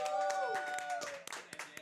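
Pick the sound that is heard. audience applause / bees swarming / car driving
audience applause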